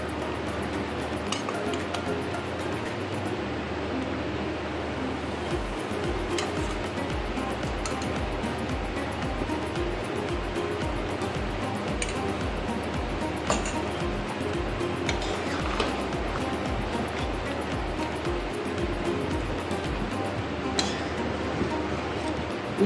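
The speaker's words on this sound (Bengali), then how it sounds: "আমি এবার মশলাটা দিয়ে দেবো, দিয়ে আরও 5 মিনিট ফুটিয়ে নেব।" Tamarind pickle (chora tetul achaar) with added spices bubbling in a pan in a Bengali kitchen, a steady close simmer with soft rhythmic bubbling pops throughout, occasional faint clinks, no talking.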